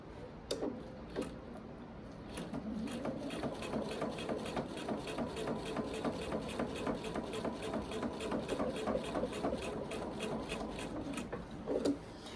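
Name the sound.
sewing machine quilting, feed dogs pulling the quilt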